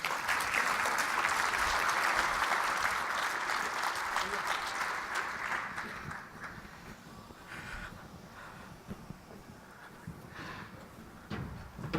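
Audience applause for a panel at a general session on digital privacy and cybersecurity, a broad, steady clatter of clapping that gradually thins and fades over the clip.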